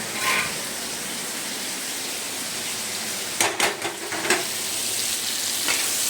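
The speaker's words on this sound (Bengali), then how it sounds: "এই যে ভাজি, ভেজে হালকা হালকা ভাজা হয়েছে" Sizzling oil in a pan as food is lightly fried for a mango-hilsa dish, a soft steady crackle with a brief burst of clattering stirring or scraping around the middle, fairly quiet and close.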